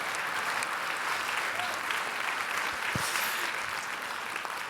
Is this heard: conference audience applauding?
yes